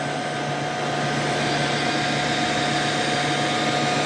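A Tineco Floor One S9 Artist steam wet-dry vacuum base station runs after cleaning, giving a constant, even whirring hum with a steady tonal whine, close and moderately loud, with no talk.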